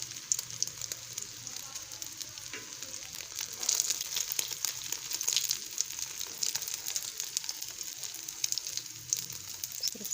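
Potato kebabs (aloo tikki) fry in a pan with a soft, constant sizzle and scattered small pops and crackles, fairly quiet and close, swelling a little partway through.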